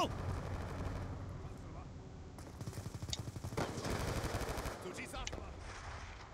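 Rapid automatic gunfire in Call of Duty Black Ops 2 multiplayer, bursts of shots rattling for several seconds with a player's voice mixed in.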